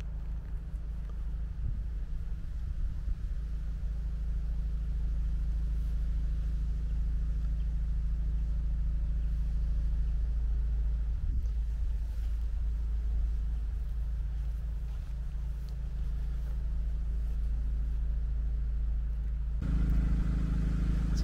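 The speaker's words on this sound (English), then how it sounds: "There's a generator to my left because they're doing some work on this bridge." Generator running beside a bridge under repair in an English village, a steady low droning hum that continues unbroken throughout, close by and moderately loud, alone.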